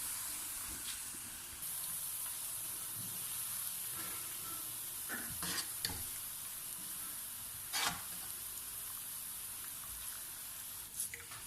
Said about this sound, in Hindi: प्याज हमारा तकरीबन ब्राउन हो चुका है।